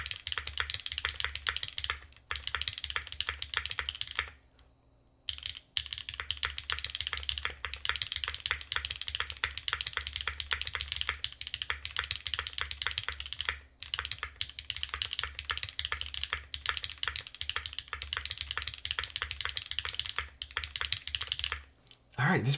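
Steady, rapid typing on a TB-65F mechanical keyboard with Cherry switches, crisp clicky keystrokes, close and continuous, with a few brief pauses along the way.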